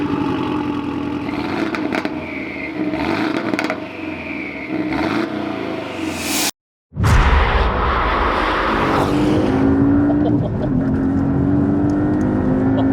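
A hybrid turbo, methanol-injected Porsche 718 Cayman is driven hard, the engine revving and surging loudly with gear changes, a brief dropout midway, then a strong sustained pull.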